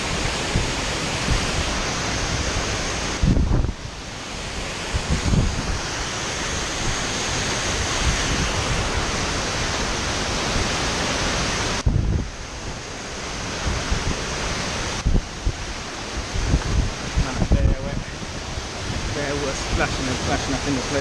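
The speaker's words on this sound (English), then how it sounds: "water splashing and plashing on my face" Heavy water from a waterfall crashes and splashes nearby in a continuous loud roar, with a few brief gaps and scattered close spatters.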